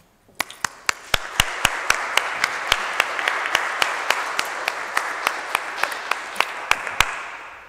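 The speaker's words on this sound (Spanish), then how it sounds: "Un aplauso, Julia, de aquí desde la sala multimedia del" Sparse applause from a small group in a university multimedia hall, with individual claps ringing out steadily over a soft background hiss for several seconds.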